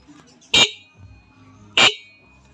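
An e-bike horn sounds two short, sharp honks about a second apart, each a brief bright blare against a quiet background.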